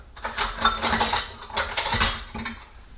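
A wooden spoon and tongs are picked up from a kitchen counter while cooking jambalaya, making a short cluster of close clattering knocks and metallic clinks, with no voices.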